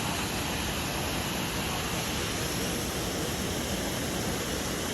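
Waterfall pouring steadily beside a pool of cold water, a dense, even broadband rush that fills the whole stretch without a break, loud and close.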